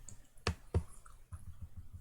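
A computer mouse clicks twice in quick succession during CAD sketching, crisp and close but quiet, followed by soft low tapping.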